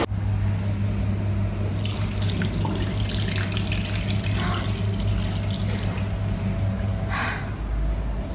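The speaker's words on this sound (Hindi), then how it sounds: "मैंने ठंडा पानी मेरे मुंह पे मारा है" Cold water runs steadily from a tap into a sink, a close, continuous hiss with irregular splashes as water is thrown onto a face, and a low hum underneath.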